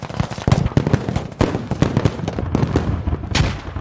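Grenade explosions and gunfire in a military video game, a dense, loud clatter of blasts and shots rolling on continuously with no pauses.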